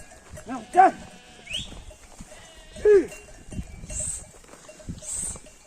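Sheep and other farm animals at feeding time on a rural homestead, with two clear bleats a couple of seconds apart among soft rustling, shuffling and low voices nearby.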